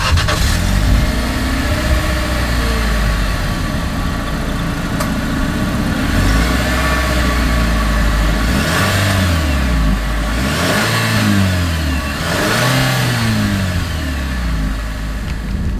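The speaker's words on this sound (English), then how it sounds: "As always, here is that exhaust clip." Exhaust of a 2025 Nissan Kicks, heard from close behind: a steady idle, then three distinct revs that each climb and fall back to idle.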